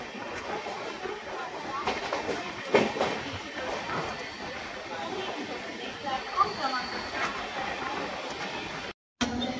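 The Pragati Express moves along the rails departing Thane in the monsoon, its steady rumble and faint clatter heard from inside the carriage, fairly quiet and continuous with a few brief knocks.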